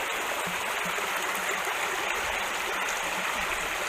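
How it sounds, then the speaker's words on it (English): A trout stream in Washington State flows steadily, with continuous close rushing and gurgling water that stays even and broadband for the whole stretch, with no voices. "Guess we found a rainbow trout stream."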